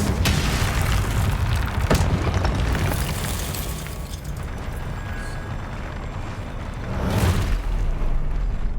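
A Confringo fire spell in the video game Hogwarts Legacy sets off a sustained rumbling blast, with a sharp crack near the start and another swell of booming near the end.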